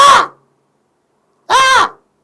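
A man imitates a crow, giving two loud, nasal, crow-like caws up close, separated by a clear silent gap.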